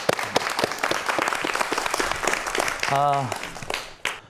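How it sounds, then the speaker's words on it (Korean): Applause from a studio audience welcoming a professor before an architecture lecture, continuous clapping with a voice speaking over it and a brief sung tone near the end. "박수 부탁드릴게요"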